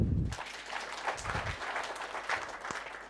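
Applause from members at a Sacco annual general meeting honouring the board of directors, a soft, fairly distant clatter of many hands clapping that starts after a brief low rumble and continues steadily.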